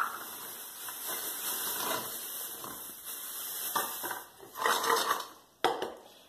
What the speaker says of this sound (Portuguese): a gente vai colocar o pinhão, a quantidade que você vai querer cozinhar na panela